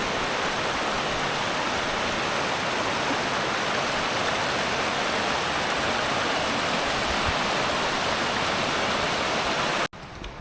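Rushing mountain stream water on Mount Isolation, New Hampshire, pours steadily and loudly, a dense continuous roar that cuts off abruptly near the end.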